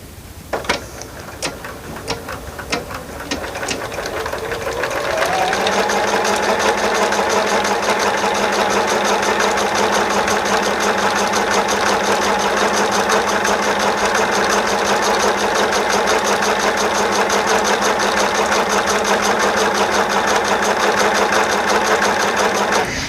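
Sewing machine stitching a quarter-inch seam on a Martha Washington Star quilt block: a few scattered clicks at first, then from about five seconds a loud, steady, continuous whirring run of needle strokes.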